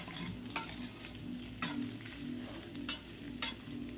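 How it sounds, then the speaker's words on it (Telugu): Ginger garlic paste frying in a pan, with a steady sizzle running throughout and a scrape of stirring roughly every second, close and moderately loud, with no voices. "ఇది ఒక 1 మినిట్ లేదంటే 2 మినిట్స్ వరకు ఇట్లా వేపుతూ ఉండాలి."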